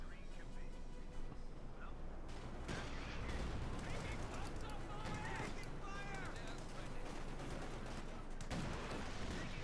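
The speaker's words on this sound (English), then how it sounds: "cannons around there, almost wiped the entire squad" Cannon fire in a Company of Heroes 2 battle, with dense, continuous booms and gunfire blending into loud battlefield chaos, and a voice talking over the din.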